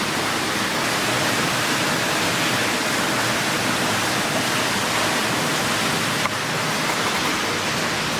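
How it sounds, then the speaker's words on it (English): A constant, dense rushing roar of falling water fills the clip evenly from start to finish, steady and broad with no other sounds. "I love this view of the waterfall"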